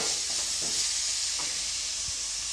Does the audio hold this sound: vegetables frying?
yes